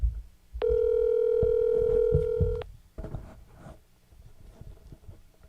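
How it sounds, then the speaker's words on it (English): A telephone line plays a steady ringback tone while the caller waits for an answer. One long tone lasts about two seconds, then gives way to quiet room rustling. "Take it forever to answer the phone too."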